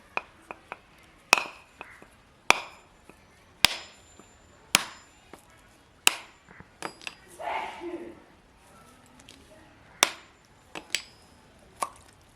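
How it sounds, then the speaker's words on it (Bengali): A whole coconut is struck repeatedly to crack it open in a home kitchen, sharp knocks coming at irregular intervals, with a brief splash of liquid midway. "আমি একটা পুর তৈরি করব, তার জন্য প্রথমে নারকেলটা ফাটিয়ে নেব।"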